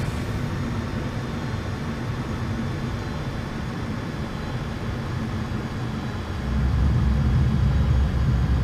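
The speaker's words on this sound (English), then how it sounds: "Spoilers are deployed. And reversers are out." An airliner in a flight simulator lands with spoilers deployed and thrust reversers out, giving a broad steady rumble of engine and wind that swells louder and deeper for the last couple of seconds.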